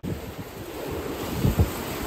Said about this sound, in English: Big squall, 40 knots of wind